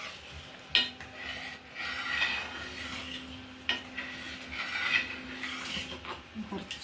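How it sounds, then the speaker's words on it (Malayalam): Payasam for an Onam sadya is stirred in a pot, with a utensil scraping and knocking against the metal in a few distinct strokes over a low background hum, close and moderately quiet. "കുറച്ചുകൂടെ ഇളക്കിയിട്ട് നെയ്യ് ഒഴിച്ചു."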